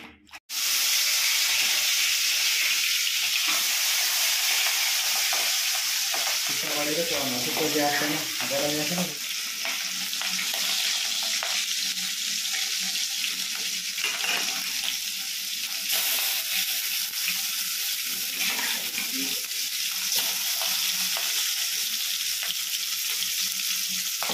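Jalanga balia fish frying in a pan with fresh turmeric, a loud steady sizzle and hiss that runs the whole time, close up, with a brief bubbling spatter partway through and no talking.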